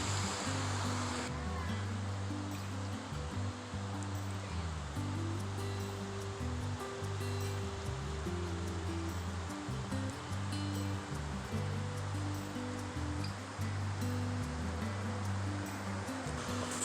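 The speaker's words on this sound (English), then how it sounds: "So we begin at the creek." A forest creek in Pisgah National Forest rushes steadily, a loud continuous wash of flowing water close by, overlaid with a low droning hum.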